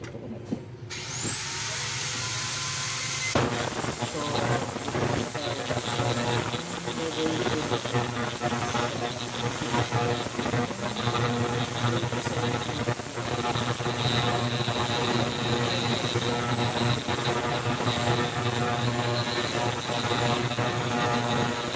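A fuel injector cleaning machine runs during maintenance on a Yamaha R3, giving a steady, loud mechanical hum and whir that starts after a brief quiet moment and continues without a break.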